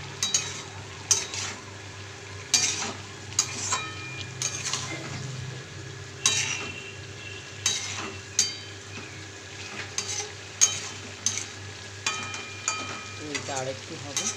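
Prawns, chickpeas and potato stirred in a pan, with a steady low sizzle beneath regular close scrapes and taps of the spoon against the pan, repeating every second or so.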